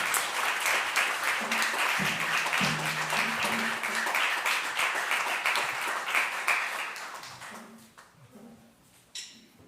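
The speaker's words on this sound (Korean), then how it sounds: "자, 박수해 주세요." A church congregation at a Sunday service applauds in a dense, steady burst of clapping that carries on for several seconds, then thins and fades out near the end.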